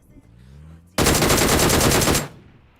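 A loud, rapid burst of automatic gunfire from the video game PUBG Mobile lasts just over a second, with evenly spaced shots close up.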